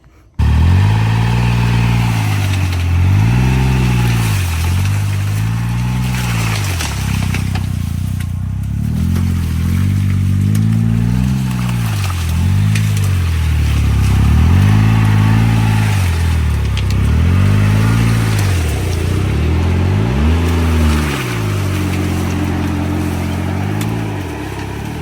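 Ranger UTV in four-wheel drive straining to climb out of deep mud, engine revving loudly and repeatedly in rising and falling surges, close and continuous for the whole stretch.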